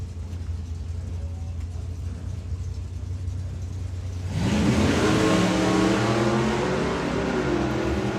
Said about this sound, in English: That was the smoothest launch I've seen from the Glen and Glen car.